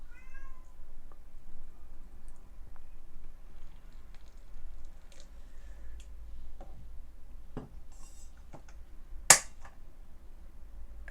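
A house cat meows behind a closed door, faint and muffled, in scattered calls over quiet room tone, with one sharp click near the end.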